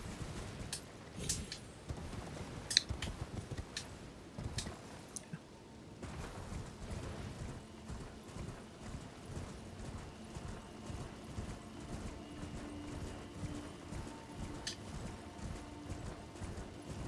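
Quiet rhythmic hoofbeats clop along at a steady pace, a horse in Elden Ring moving at speed with faint thuds and occasional sharper clicks.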